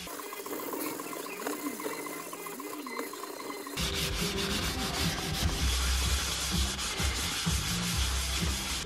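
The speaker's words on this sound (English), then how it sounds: "damp, clean microfiber just to wipe where we've been and pick up any residues that have been left behind" A damp, clean microfiber cloth wiping the seat of an Audi R8 V10 Spyder during detailing, giving a steady rubbing swish that turns louder and coarser partway through, close and without talk.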